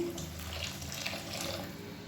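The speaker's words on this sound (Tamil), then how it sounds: "இப்போ அந்த தண்ணியை வந்து சேர்த்துக்கலாம்." Heated soaking water poured into a pot of rice for mint rice, a steady, even rush of running water that holds at moderate loudness without pauses or talk.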